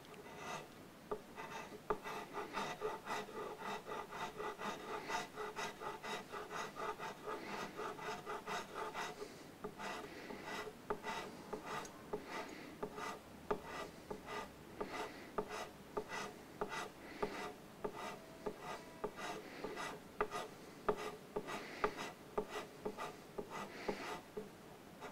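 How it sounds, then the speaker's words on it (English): Coarse file rasping material from the nut of a Burns Brian May Red Special guitar, a quiet, steady run of rapid back-and-forth strokes close up, with no talking. "file for taking off a lot of material, so it's a little bit on the slow side"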